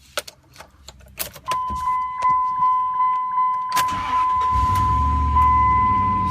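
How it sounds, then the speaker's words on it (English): A pickup truck engine cranks and catches after a few door and key clatters, with a steady chime from inside the cab, then settles into a low idle rumble close by. "let's go ahead and start her up"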